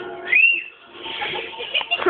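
A man whistles a wavering tune up close during a chilli eating contest, one long rising note followed by a shakier, breathier stretch of whistling.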